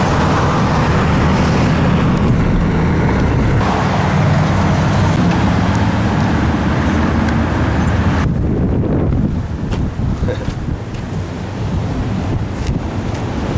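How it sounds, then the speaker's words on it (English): A car passing on a street in Lexington, Kentucky, heard as a loud, continuous roar of tyre and traffic noise heavily mixed with wind buffeting the microphone, easing off toward the end. "Here's a car passing."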